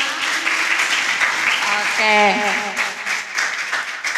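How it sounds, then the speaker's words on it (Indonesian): Applause from the audience at a youth anemia-awareness dialogue, a continuous round of clapping with a voice briefly heard over it. "Boleh deh tepuk tangan dulu untuk kita semua."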